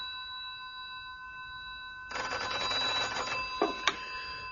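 A telephone rings in a quiet room, a single bright burst of ringing starting midway and continuing to the end, with a couple of sharper clicks near the close.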